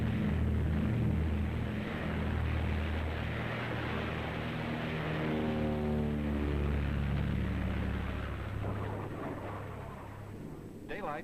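Carrier planes taking off in darkness as a storm approaches, a loud sustained propeller engine roar with a rising and falling drone, heard under music.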